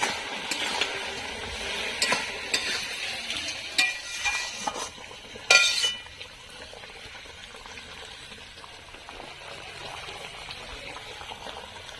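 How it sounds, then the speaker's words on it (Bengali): Sugar and batasha melting in a pot for an old-style olive pickle, bubbling and crackling steadily with scattered louder pops and stirring clinks near the middle, close and moderately loud, with no voices. "চিনি আর বাতাসা গলতে শুরু করে দিয়েছে"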